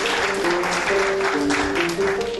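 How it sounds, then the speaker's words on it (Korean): Audience applause rises to welcome the final presenter, a computer engineering student, at the FameLab Korea science communication finals, dense clapping running throughout beneath steady sustained musical tones. "민몽 씨의 큰 박수로 맞이해 주시기 바랍니다"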